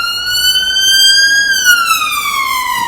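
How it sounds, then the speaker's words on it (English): An ambulance siren passing along a high street, loud and close, its wailing tone holding steady then dropping in pitch as it moves past. "Here comes the ambulance to try and rescue the high street."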